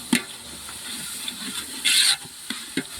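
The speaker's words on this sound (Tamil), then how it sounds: "ஆனியன் நல்லா வதங்கி இஞ்சி பூண்டு பேஸ்ட்டும் நல்லா வதங்கிட்டு இருக்கு" Onions and ginger-garlic paste sautéing in a pan for Dindigul-style seeraga samba biryani: a steady, quiet sizzle broken by a few sharp stirring scrapes and a brief louder hiss, with no talk.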